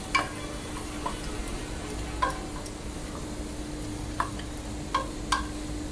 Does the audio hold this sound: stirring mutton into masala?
yes